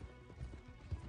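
Horse hooves clip-clop in Red Dead Redemption 2, a few soft uneven footfalls close by, low and muffled, with no talk over them.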